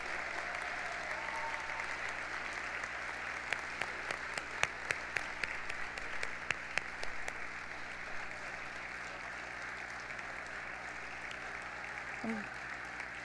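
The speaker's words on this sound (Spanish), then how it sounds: "Gran aplauso ahí" Applause at a secondary school graduation ceremony, scattered claps from a modest audience heard faintly in a hall, with a few sharper nearby claps in the middle and a steady background hum.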